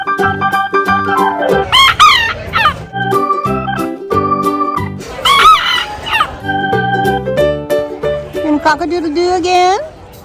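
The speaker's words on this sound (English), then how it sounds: "You're a good-looking rooster." A rooster crows on a farm, its call rising a few times over steady background music, with a person talking nearby between the crows.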